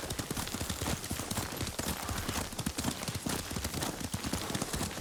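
Steady clip-clopping of horse hooves at a trotting rhythm in the video game Ghost of Tsushima, fairly close and continuous, with a dense rumbling game-world ambience behind it.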